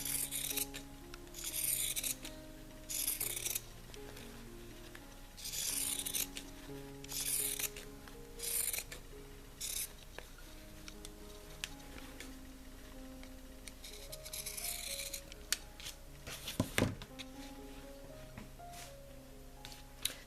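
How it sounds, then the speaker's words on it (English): Pinking shears snip around the edges of punch needle fabric in repeated crisp clusters of cuts, soft and close, with pauses between cuts over quiet background music. "I'm going to just cut around the edges with my pinking shears so it won't ravel."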